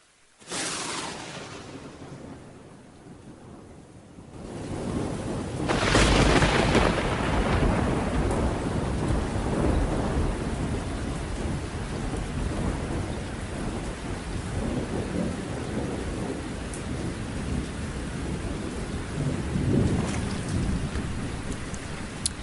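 A heavy thunderstorm: a loud thunderclap breaks out, then steady heavy rain pours on with rolling rumbles of thunder throughout.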